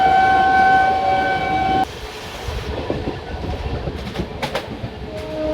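Shri Ganganagar–Delhi Intercity Express running on rails, a loud steady rumble and rattle of wagons with tonal squeal early on, then a rougher rolling clatter after an abrupt drop in level.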